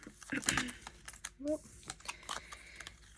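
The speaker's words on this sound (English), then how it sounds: "So I'm just going to shuffle them like this." Store cards being shuffled by hand in a cash stuffing savings game, giving quick papery riffles and flicks close up, with a voice talking over part of it.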